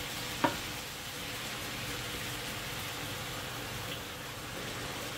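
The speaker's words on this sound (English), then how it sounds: "add a nice big glug of white wine to deglaze our pan" White wine poured into a hot pan of mushrooms to deglaze it, producing a loud, steady hissing sizzle with a single sharp splash near the start, close and continuous throughout.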